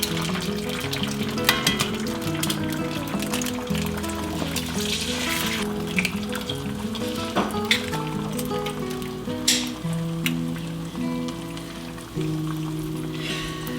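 Eggs frying in a pan in a home kitchen, cooked over easy, a steady loud sizzle and crackle that runs continuously with scattered pops, under light clinks and household noise.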